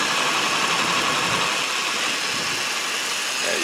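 A 2002 Ford Taurus SES with a 3-liter V6 idles under the open hood, a steady close-up engine hum with constant mid-range drone and no talk over it.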